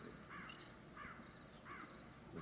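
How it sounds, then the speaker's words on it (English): Game sound effect of crows cawing in a fantasy card or board game session: three or four rough, distant caws spaced evenly over a low steady background hum, faint, with no talking. "Crows are circling."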